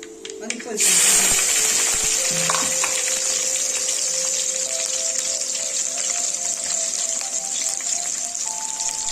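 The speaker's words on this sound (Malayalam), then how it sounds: "ഒരു ടീസ്പൂൺ കടുകും ഇട്ട് അത് പൊട്ടുന്നതിന് വേണ്ടി വെയിറ്റ് ചെയ്യുക" A teaspoon of mustard seeds crackles and pops in hot oil for fish curry with a dense, continuous sizzle, fairly close, with no talking.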